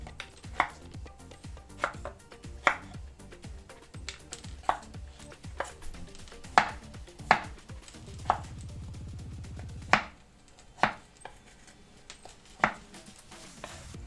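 A knife chops potatoes into cubes on a cutting board, sharp distinct knocks at an irregular pace roughly every second, close and clear with no talking.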